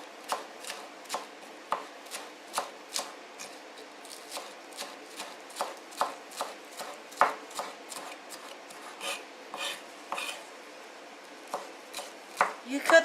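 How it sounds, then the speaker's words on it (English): A knife chops fresh cilantro leaves and stems on a cutting board in quick, steady close taps, with brief pauses and slight scraping between strokes. "You cut the cilantro into bigger slices on the leaves, and then smaller slices on the stem."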